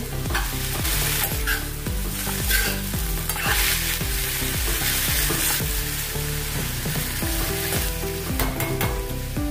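Noodles stir-fried in a pan with soy sauce and Schezwan sauce, a loud continuous sizzle with rapid rhythmic tossing and scraping of the spatula, no voices.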